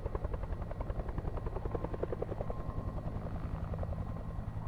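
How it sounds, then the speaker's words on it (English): A helicopter flies overhead in the video game Alpha Polaris, its rotor giving a steady, loud, fast-pulsing thump over a low engine drone that lasts throughout, with no talk. "Sounds like a chopper."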